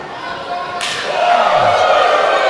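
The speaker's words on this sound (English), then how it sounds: "Those chops just echoing through the PA Farm Show complex here." A loud open-hand wrestling chop cracks through the PA Farm Show complex arena, one sharp slap that rings out with a long, echoing tail over a steady crowd murmur.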